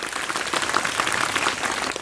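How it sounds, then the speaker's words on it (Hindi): At a school function at Swami Vivekananda Inter College in Haripur, Sultanpur, an audience claps to welcome a guest from Lucknow, a brief, continuous wash of many hands at moderate level. "आप लोग पुनः तालियों की गड़गड़ाहट से आपका अभिनंदन करिए।"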